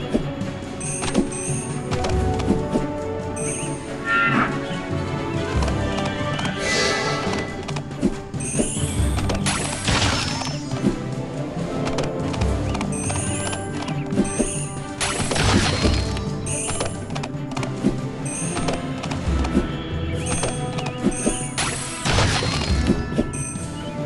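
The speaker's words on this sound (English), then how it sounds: "Say goodbye to pesky obstacles with Twilight's Magic Blast!" Magic blast from the My Little Pony Rainbow Runners game smashing through obstacles, repeated loud crashing, thwacking hits over busy game music and effects.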